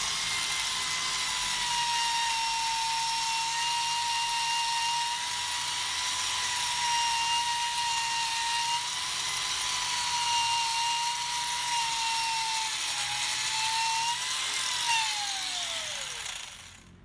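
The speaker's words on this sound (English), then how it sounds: "This cup brush seems to work better." A wire cup brush on a power tool scours rust off an old anvil, giving a steady high, grinding whine with a gritty hiss that holds evenly for a long stretch before winding down at the end.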